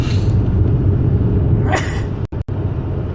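A single sneeze bursts out over a constant low engine rumble, followed by two brief dropouts in the sound.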